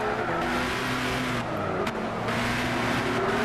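Engine of the Nissan Zytek LMP2 race car at Le Mans in Gran Turismo 6, a loud, continuous high-revving drone with a brief gear-shift dip partway through.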